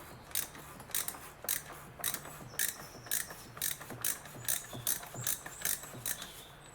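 Ratchet with a 27 mm socket turning the oil filter housing on a 2011 BMW 320d: a steady run of close, crisp clicking bursts in an even rhythm, with no talking.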